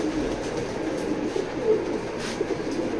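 A racing pigeon coos softly in a low, continuous murmur, close and steady throughout, with no voices present.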